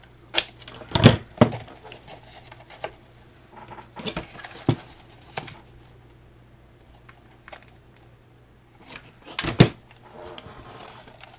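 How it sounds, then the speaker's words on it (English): Scissors snip through paper while making a purse-shaped gift bag, a few sharp bursts of close cutting separated by quieter rustling and pauses, with no talking. "And then we'll go ahead and cut this off."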